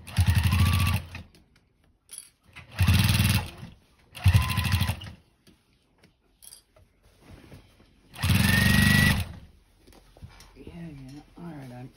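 A sewing machine stitches through a thick denim quilt in four loud bursts of whirring, with quiet pauses and some soft talking between them.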